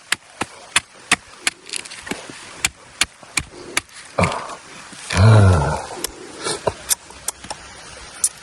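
A blade repeatedly chops into a coconut in an orchard setting, sharp regular thwacks roughly every half second, with a brief loud crunching burst as the shell cracks open midway.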